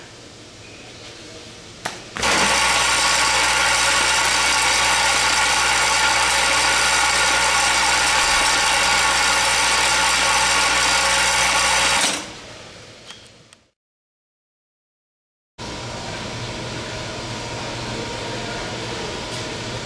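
A parts counting machine counting screws gives a loud, steady, even whir for about ten seconds. It cuts off to brief silence, then starts whirring again.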